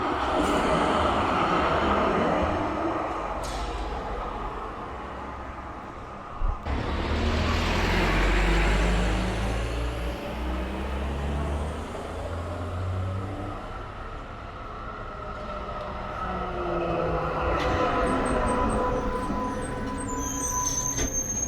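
A tram rumbles by on rails in central Melbourne, loud and close, its wheels grinding and squealing, with a bell-like ding near the end.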